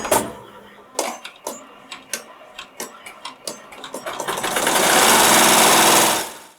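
A Melco embroidery machine stitches a monogram on an Easter basket with Madeira blue thread, ticking in a steady rapid rhythm before rising into a loud continuous whirring run, close up with no talking.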